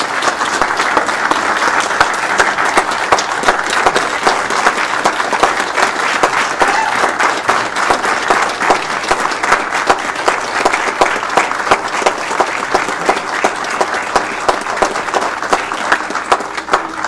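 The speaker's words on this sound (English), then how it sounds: "Let's give Marwan a big round of applause." A city council meeting audience gives sustained, dense applause for Marwan, loud and even hand clapping from many people filling the room without a break.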